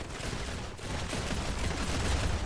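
A friendly turret firing in Modern Combat 5 rattles out a continuous, dense stream of shots, moderately loud and growing slightly stronger over a couple of seconds, with no talk.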